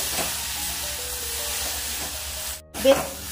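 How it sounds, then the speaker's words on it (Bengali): Spice mix fries with flat beans in a hot pan, a steady close sizzle with the occasional stirring scrape, briefly cut off near the end before it resumes. "এবার আমি মশলাটা দিয়ে সিমের সঙ্গে একটু ভেজে নেব।"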